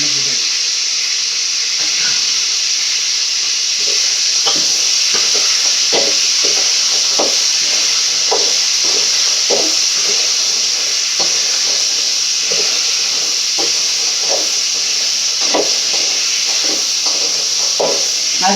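Crab pieces hit hot oil seasoned with turmeric and chili powder and fry with a steady, close sizzle and hiss. Short clinks and scrapes from stirring punctuate the sizzle throughout.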